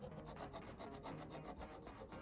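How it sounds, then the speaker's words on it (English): Repeated rasping strokes of a file taking the sharp edges off an aluminum bar for a boat's switch panel, a steady back-and-forth scraping rhythm, close and continuous with no talk. "Once again, I remove the sharp edges"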